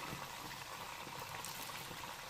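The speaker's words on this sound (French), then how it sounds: "Je vais aussi mettre un peu d'huile, l'huile de ma friture du poisson." Leftover fish-frying oil poured over diced vegetables for an attiéké dish, a steady close hiss and gurgle of liquid running continuously and fairly faint, with no voices.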